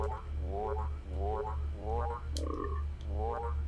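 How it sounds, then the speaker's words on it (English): Frog croaks from a video game, Starstruck: Hands of Time, come in five rhythmic bursts of ridged calls over a steady low hum, with a brief clicky chirp between them; the croaks are loud and clear. "Is that a frog?"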